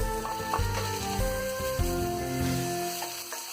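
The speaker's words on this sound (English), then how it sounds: "Let it fry for 2 minutes." Steady sizzling from tomato and onion frying in a pan, with a continuous hiss and occasional soft clinks.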